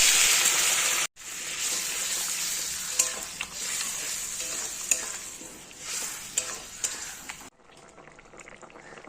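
Water hits sautéed vegetables for a potato curry in a hot pan, setting off a loud burst of sizzling that breaks off abruptly, then continues as a steady hiss with repeated scraping stirs before fading to a quieter simmer.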